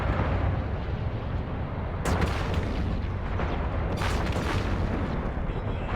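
Spaceship weapons firing in a ship-to-ship fight in the space game Eve Online, a dense, steady roar of booming shots with two sharper bursts, loud and continuous with no talk.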